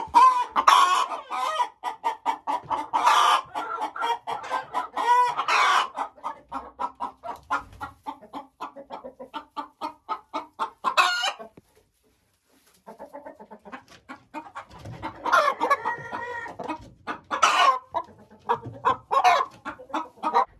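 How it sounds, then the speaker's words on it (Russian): Hens cluck in rapid repeated bursts, some loud and close, with a brief quiet gap before the clucking resumes. "Куры несутся сюда."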